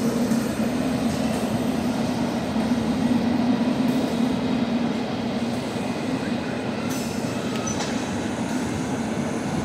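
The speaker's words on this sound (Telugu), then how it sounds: "కొత్తగా కన్స్ట్రక్షన్ చేసిన ప్లాట్ఫామ్ నుంచి కూడా ఆల్రెడీ ట్రైన్లు పోవడం స్టార్ట్ అయ్యాయి." A train rumbles steadily past a newly built platform at Charlapally railway station, the wheels and carriages giving a loud, continuous roar with faint rail clatter and squeal throughout.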